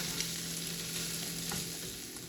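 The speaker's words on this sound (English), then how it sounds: "I have cooked the chickpeas for about 5 to 7 minutes on a low medium heat" Chickpeas fry in a pan over low-medium heat, giving a steady close sizzle with light stirring scrapes and no talking.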